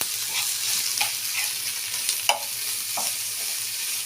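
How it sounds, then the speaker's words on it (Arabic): Minced meat frying in a pan, a soft steady sizzle broken by scraping and clinking taps of a utensil stirring and breaking up the mince every half second or so, close and fairly quiet, no talking. "ادي المفروم بتاعي اهو، اقعدي تفككي فيه كده لحد ما كله يندمج مع بعضه"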